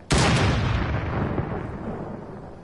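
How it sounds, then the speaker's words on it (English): A single heavy gunshot from a sniper rifle in Fortnite, a sharp loud crack followed by a long rolling decay, with no talk. "I hear gunshots."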